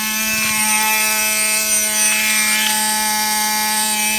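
A Thunder Tiger TS4n RC car whirs steadily from its belts, a loud constant high-pitched whine with a turbo-like tone that holds at a steady pitch throughout.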